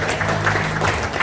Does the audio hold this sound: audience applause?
yes